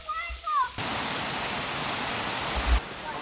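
Steady broadband rushing of falling water fills most of the clip, loud and continuous, with brief voices and faint sounds at the start.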